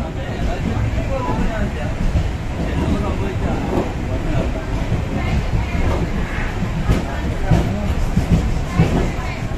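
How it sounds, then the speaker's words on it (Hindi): A train of the Kochuveli Express pulls into Kochuveli station, a loud continuous rumble and rattling of wheels on rails with faint clicks, while voices talk over it. "ट्रेन यहाँ पर आ गई है"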